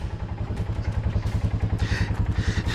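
A Kawasaki Bayou four-wheeler's single-cylinder engine chugs close by in a steady rhythmic pulse, with brief rattling and clattering from the machine as it shifts up into first gear.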